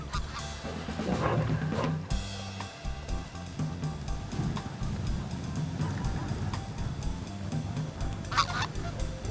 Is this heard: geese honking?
yes